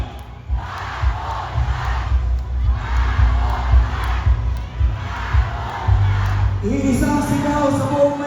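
A large crowd at an outdoor campaign rally in Manila shouts and cheers in loud, rolling waves, with steady roaring swells and chanting that stays dense throughout.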